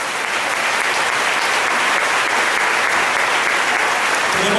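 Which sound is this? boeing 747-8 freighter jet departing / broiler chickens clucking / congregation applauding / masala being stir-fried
congregation applauding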